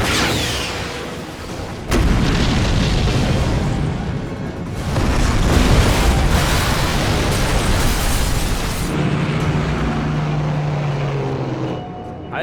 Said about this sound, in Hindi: एक और ब्रिज उड़ाने जा रहा हूं।